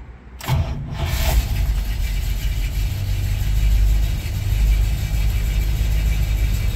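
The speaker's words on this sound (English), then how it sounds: "this car starts half a turn every time" A one-owner 1962 Buick LeSabre four-door hardtop with 63k miles cranks briefly and fires up at once, then settles into a steady, close, loud engine rumble that swells as it revs.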